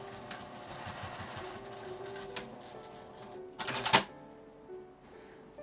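A sewing machine bastes a D-ring tab onto a mini keychain pouch with a soft, rapid mechanical whirring, then a louder clattering burst of stitching before it stops, close and alone.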